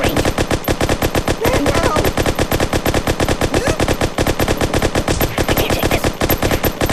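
Rapid machine-gun fire at the shooting range in the video game Kick The Buddy rattles on continuously in a dense burst, loud and close, as a voice briefly speaks over it.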